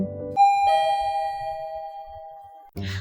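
Elevator arrival chime in an audio drama rings out as a single clear, bright ding that sustains and slowly fades over about two seconds, set between short bursts of other background sound.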